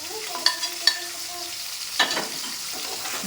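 Onion, tomato, garlic and ginger frying in a pan, a close steady sizzle punctuated by several sharp clicks and scrapes of a spatula stirring against the metal.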